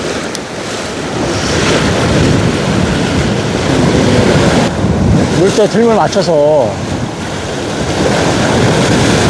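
Sea waves breaking against a sheer rock wall on the Jeju shoreline, a loud continuous wash and surge with heavy wind buffeting the microphone, while someone talks over it.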